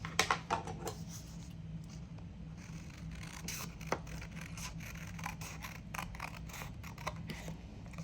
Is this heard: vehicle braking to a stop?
no